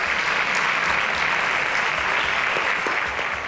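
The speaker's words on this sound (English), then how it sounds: "Please give them a round of applause." Contestants on a maths quiz show get a round of audience applause, steady and full-bodied throughout with no talking over it.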